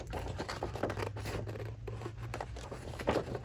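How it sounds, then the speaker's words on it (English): Scissors snip through a printed paper page for a journal, a run of close, quiet crisp cuts in quick succession over a low background hum. "I'm going to loosely cut it, and then I'll cut it out."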